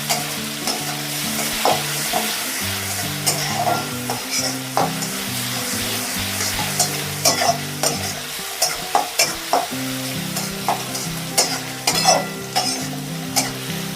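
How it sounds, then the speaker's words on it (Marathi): Onion sautés in oil in a pan, browning for poha: a loud steady sizzle broken by repeated scraping stirs and clacks of a spoon against the metal pan, with no voices. "हा कांदा तुम्हाला चांगला लाल होईपर्यंत परतायचा आहे."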